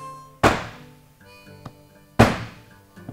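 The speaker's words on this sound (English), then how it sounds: "bang each of these with the ball peen hammer" A ball peen hammer strikes a painted metal plate twice, each blow a loud ringing clang with a lingering tone, plus lighter taps in between.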